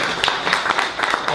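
An audience claps in a brief burst of applause, close and fairly loud, with a voice speaking over it.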